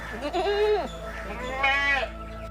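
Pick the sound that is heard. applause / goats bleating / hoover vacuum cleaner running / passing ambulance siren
goats bleating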